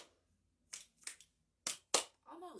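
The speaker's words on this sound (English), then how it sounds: "Let's try snap clap." Four crisp close finger snaps and claps in a quiet room, in pairs with short gaps, followed by a brief murmur.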